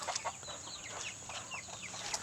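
Free-range village chickens (ayam kampung) in Samarinda cluck and chirp continuously at a moderate distance, many short overlapping calls over a steady hum of background noise.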